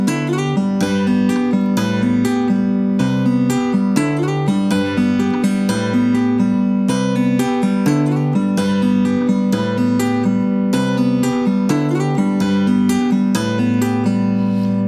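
A math rock guitar riff played with two-handed tapping into open strings runs for about fifteen seconds, a dense, continuous cascade of bright, rapid notes in a steady repeating pattern.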